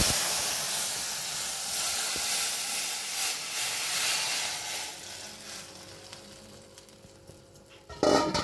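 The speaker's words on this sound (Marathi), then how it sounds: "जरा त्याला उकळी येऊ दे, मग झाला सार।" Saar soup with cumin tempering boiling and hissing in a pot; the steam hiss is strong at first, fades through the middle, then a brief louder burst comes near the end.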